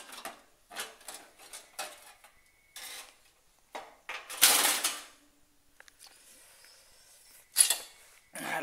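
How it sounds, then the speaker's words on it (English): Plastic cover being pried and pulled off a window air conditioner: scattered clicks, creaks and rattling snaps, with a louder scraping rustle midway and another sharp snap near the end, close by with no talking. "Let me get this cover off."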